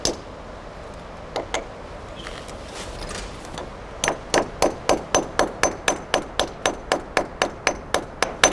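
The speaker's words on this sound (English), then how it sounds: "When the pin is hammered in, the inner part of the device expands and fastens securely in the concrete." A pin being hammered into an expanding anchor set in a concrete wall, sharp metallic strikes, a few scattered blows at first, then a fast, even run of about twenty close, ringing hits.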